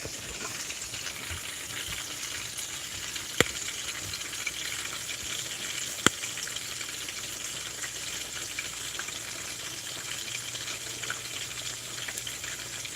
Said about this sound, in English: So let me fry this up